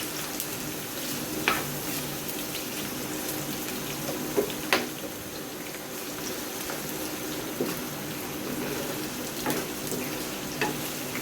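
Pasta sizzles and fries in a pan while being stirred, a steady close hiss with occasional soft scraping clicks and no talking.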